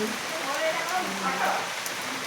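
Steady rain falls in the rainy season as a broad, even hiss, with voices talking over it.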